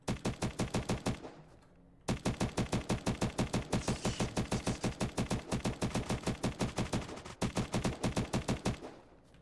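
Rapid automatic gunfire in a survival video game, loud close bursts of evenly spaced shots with brief pauses between strings.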